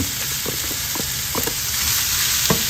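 Chopped pork belly with its fat sizzles and fries steadily in a pan, a dense continuous crackle with scattered sharper pops, close and fairly loud with no talking.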